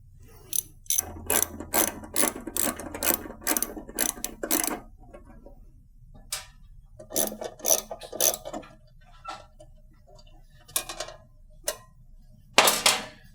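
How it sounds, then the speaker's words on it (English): Screws come out of a Hayward AquaRite panel with a flathead screwdriver or 5/16 socket, giving close bursts of quick ratcheting clicks in several separate runs with quiet pauses between. "you're going to start by removing these two screws. You can use a flathead screwdriver or a 5/16 socket."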